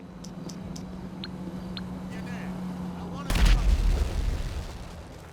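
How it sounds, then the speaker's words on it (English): A small explosion goes off in GTA 5 after a phone call, a sudden loud boom with a rumbling low tail close by, following a quiet stretch with a few faint electronic beeps. "the call will connect to a company called Black Cell Phones before causing a small explosion to happen in front of your character"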